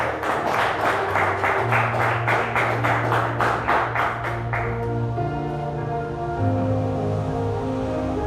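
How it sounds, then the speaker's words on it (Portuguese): Congregation clapping in a steady rhythm during an evangelical church service, broadband bursts up front that fade after about five seconds into sustained keyboard and bass music. "Será que você pode dar uma salva de palmas para o Senhor nessa noite?"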